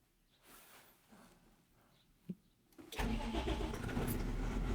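A vehicle engine, one that needed a repair after standing in a field for three days during soybean sowing, cranks in a few short bursts. It then catches at once and settles into a loud, steady running roar.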